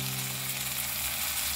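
Masala paste frying in a pan with cooked tomato and onion for a mustard paneer gravy, a steady close sizzle with a low hum beneath it, no voices.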